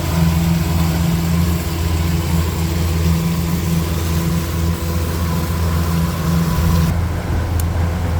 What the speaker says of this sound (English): We're meeting another wide canal boat here on the Erie Canal.